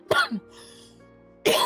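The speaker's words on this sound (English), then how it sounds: "I did all that stuff to make sure that I wouldn't have that much of a cough during the stream" One sharp cough, then a short throat sound and a quiet pause before a second harsh cough bursts out, close and loud, from a person on a live stream.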